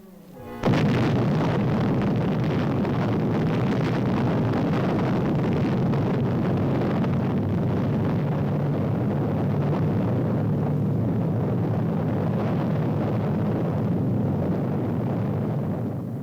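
A sudden loud blast erupts and becomes a long, heavy rumbling roar that sustains without letup, deep and powerful, like a massive explosion heard from a distance.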